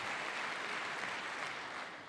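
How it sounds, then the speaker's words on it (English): Members of Congress applaud during Trump's speech to Congress, a dense, sustained roar of clapping that holds steady before easing slightly at the end. "Yeah, the clapping is a lot, it is."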